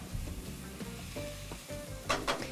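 Onions and leeks sautéing in a pan until soft and translucent, with a quiet close sizzle and stirring scrapes that end in a couple of brighter hissing bursts, with no one talking.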